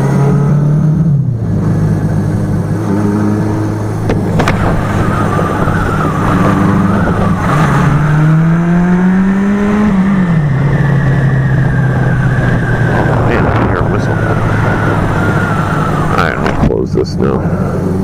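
A motorcycle engine idles a bit high, a steady loud drone that rises briefly in pitch a couple of times as it is blipped, close and continuous throughout.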